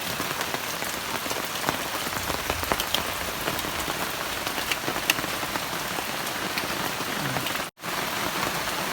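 Heavy rain falls steadily outdoors beside a roadside fishing spot, a dense continuous patter on surfaces that holds for the whole stretch with only a momentary break near the end.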